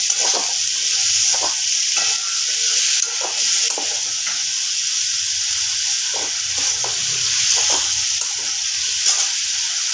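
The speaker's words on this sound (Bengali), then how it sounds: "এবার একটু ভালো করে নাড়াচাড়া করে দেবো" Mixed vegetables with a green chilli stirred in a hot pan: a loud, constant sizzle with repeated scraping strokes of the spoon at an uneven rhythm, close up and without voices.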